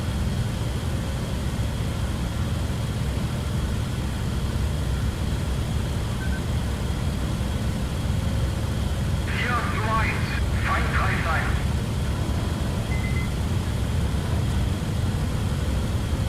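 Steady propeller-aircraft engine drone from a World War II fighter in IL-2 Combat Box, a constant broadband roar throughout with brief higher rattling bursts midway, while a person talks over it.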